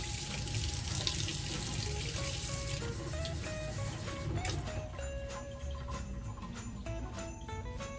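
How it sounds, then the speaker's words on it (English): Warm water runs steadily from a tap for several seconds, a continuous splashing hiss with faint clinks, close by. "Put our warm water in here."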